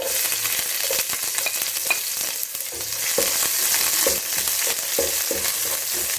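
Cardamom, fennel seeds, sliced shallots and curry leaves frying in hot oil in a pan, a steady close crackling sizzle with small pops and spatters, no voices.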